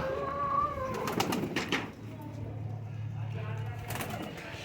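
Young pigeons in a home cage give soft, low coos that run for a couple of seconds under and between a man's speech, fairly faint and close.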